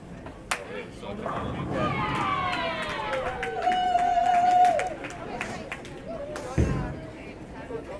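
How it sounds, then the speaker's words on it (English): A crowd at a women's trios bowling event erupts in a swelling wave of cheering and shouting, with sharp thuds at the start and end and nearby chatter underneath. "All the shouts are coming in now"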